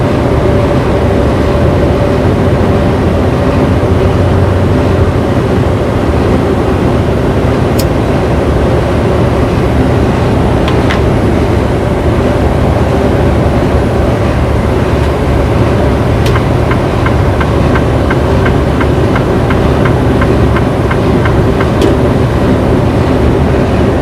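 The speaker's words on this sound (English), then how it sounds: "It does real good at picking up my voice and picking up the road noise and the tractor noise." Inside a semi truck cab on the road between Enid, Oklahoma and Bennett, Colorado, a steady loud drone of tractor engine and road noise runs unbroken for the whole stretch, with a few faint clicks and no talk.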